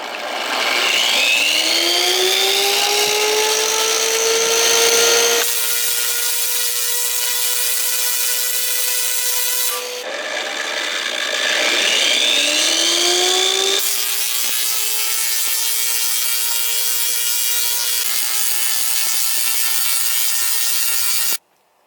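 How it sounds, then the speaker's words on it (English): A Tesla coil's spark gap fires loudly for about twenty seconds, a harsh, buzzing continuous roar with sweeping pitch swells, close and overpowering, with no voices. "It's hard to convey just how loud that spark gap actually is."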